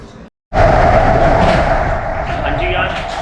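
A metro train runs with a steady loud rumble and rail hum after a brief cut, continuous and close inside the carriage, with a voice talking over it.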